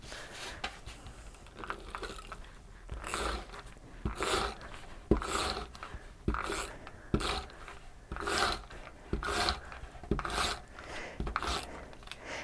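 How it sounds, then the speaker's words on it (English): A sanding block rubs along the edges of glued chipboard layers in repeated raspy strokes, close and steady with a rhythmic back-and-forth pattern and no talking. "go around with a sanding block and sand those edges a little bit"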